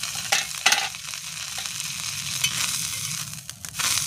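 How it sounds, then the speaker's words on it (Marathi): Coriander being roasted in a pan over a wood-fired clay stove, a steady dry sizzle with scraping stirs and a few sharper clinks, close and moderately loud with no talk. "कोथिंबीर भाजून घ्यायची"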